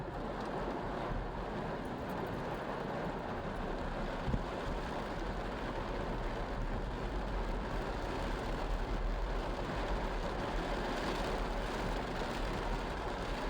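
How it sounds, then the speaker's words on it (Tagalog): Heavy storm rain hammers steadily on a vehicle on a highway, a dense, unbroken roar of downpour that holds at the same level throughout with no voices. "Talagang napakalakas ng ulan."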